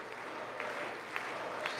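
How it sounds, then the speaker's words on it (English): Steady, moderate applause fills the chamber of Congress during the State of the Union, a broad wash of many hands from a large room, heard a little distant and without clear peaks. "The applause is not as strong as I thought it"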